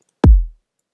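One soft, rounded kick drum sample with a fade applied, a slightly eased-in attack and a low, booming tail that fades out quickly.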